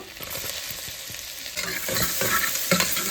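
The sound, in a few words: ginger and garlic pieces frying in hot oil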